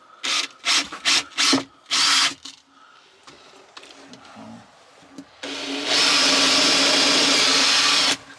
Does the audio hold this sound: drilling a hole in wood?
yes